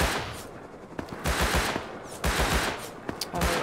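Video game gunfire rattles in rapid bursts of automatic shots, several clusters of sharp cracks separated by short gaps, loud and close with no voices over it.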